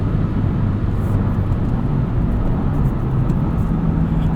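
A 2022 Subaru WRX Premium with a 6-speed manual drones loudly from inside the cabin on a highway, a steady heavy engine and road rumble with no clear break or shift audible.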